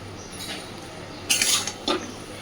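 Metal spatula mixing boiled taro stolons (kochur loti) with raw mustard oil in a pan, giving a couple of soft, close scraping clinks against the pan over a faint background hum.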